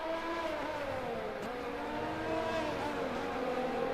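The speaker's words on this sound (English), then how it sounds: "I love the sound of the cars." Engine whine from a Ferrari F1 car in the F1 20 video game at the USA Grand Prix, a loud sustained high-revving scream with shifting pitch as the car accelerates, heard from an onboard view.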